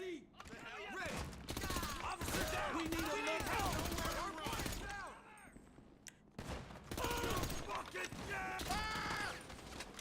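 Rapid gunfire fills a GTA Online shootout, with bursts of automatic shots, metallic clicks and mechanical clatter, loud and dense with a brief lull midway, while a voice talks over parts of it.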